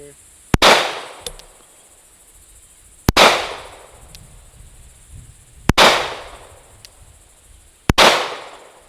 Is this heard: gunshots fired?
yes